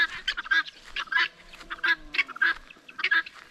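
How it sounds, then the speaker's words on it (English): Domestic birds in a village in Kenya give repeated honking, goose-like calls in short bursts, fairly close and loud, with no talk over them. "These are my birds here in the village."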